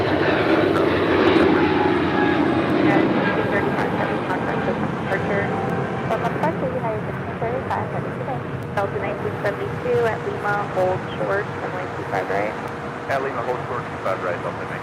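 Fixed-wing aircraft roaring low past the control tower at LAX, a loud, sustained engine rumble that swells and shifts in pitch as it passes close by, with faint radio-style talk underneath.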